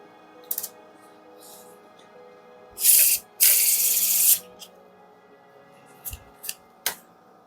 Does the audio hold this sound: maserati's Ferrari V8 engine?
no